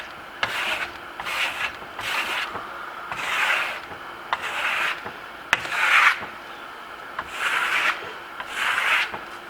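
A trowel scrapes and compresses Venetian marmorino plaster on a wall in a series of about nine close, rhythmic rasping strokes, each a short gritty swish separated by brief pauses.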